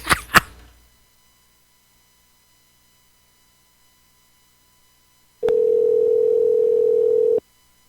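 A telephone dial tone sounds as a call is placed, a steady, loud pure tone lasting about two seconds, preceded by a couple of brief clicks from handling the phone.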